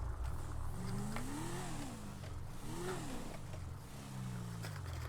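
A car driving nearby, its engine revving up and easing off in several gentle swells over a steady low rumble, fairly faint and with no talking.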